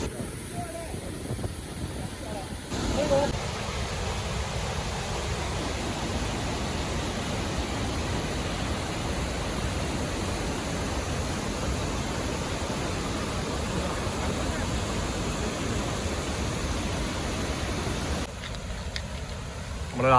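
Dudhsagar waterfall in Goa pours down in a loud, unbroken roaring rush of water that fills the whole scene, with a brief voice heard at the start and near the end.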